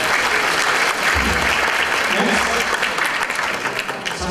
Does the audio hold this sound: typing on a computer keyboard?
no